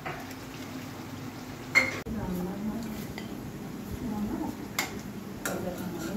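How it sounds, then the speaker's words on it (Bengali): Noodles cook in a pan and are stirred, giving soft scattered clinks and scrapes of a utensil against the pan. The sounds are faint and close, with a few sharper taps and voices in the background. "এই যে নুডলস রান্না হচ্ছে"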